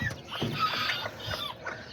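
A hen and the other chickens of a backyard flock of Azteca and Serama bantams cluck softly and intermittently in their coop, over low scratching and rustling close by.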